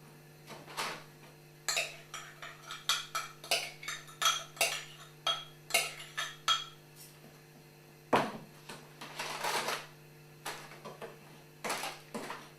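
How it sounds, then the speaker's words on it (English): A metal spoon presses lemon syrup down into a cake, making a series of light, close clinks and taps on the tin, spaced irregularly with quiet gaps between them and a steady background hum. "pushing it through with the back of the spoon into the cake"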